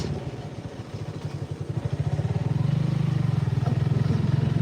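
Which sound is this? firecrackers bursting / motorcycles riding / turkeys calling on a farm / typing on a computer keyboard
motorcycles riding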